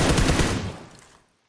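A rapid burst of automatic gunfire in the video game PUBG Lite, a short loud volley that tails off into silence within about a second, with no talk.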